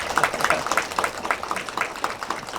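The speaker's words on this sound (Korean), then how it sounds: "김용희 소장님께 먼저 박수 부탁드립니다." Scattered clapping from a small audience at a counseling session, individual claps audible in an uneven rhythm, moderately loud and fairly close.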